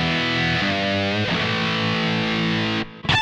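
A Canadian-made Godin Summit electric guitar played through a Yamaha THR amp on its brown setting with a little hall reverb: sustained, driven chords ring out loud and alone, shifting once, then a short final strum.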